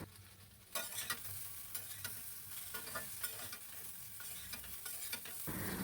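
Dried chillies are stirred and fry in a pan, sizzling with salt: after a quiet start, a bright, close crackling hiss sets in, broken by repeated spatula scrapes and small pops, and continues steadily.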